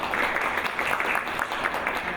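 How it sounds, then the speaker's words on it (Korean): Audience applause at a university innovation forum session before a professor's presentation, a brief steady patter of many hands, fairly quiet and even in level. "또 발표 앞서 박수 부탁드립니다."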